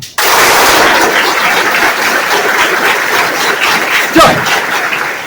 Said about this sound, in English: The whole bunch, only 3 people clapped.